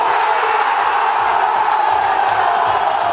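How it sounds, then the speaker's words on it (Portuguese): Caldense football fans in a stadium crowd, a steady loud roar of cheering and shouting that holds evenly throughout. "A torcida da Caldense voltou a ficar animada com a partida"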